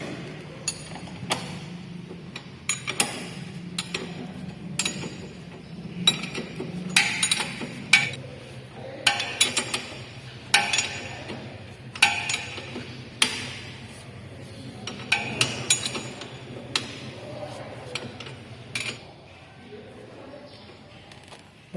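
A wrench tightens the drum-brake rear axle nut on a Jupiter Z motorcycle, giving a run of sharp metallic clicks and clinks in irregular bursts, close by, with some quiet background murmur.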